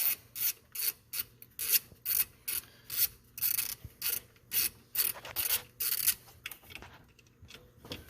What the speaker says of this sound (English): There's a bolt underneath here. We're going to remove that.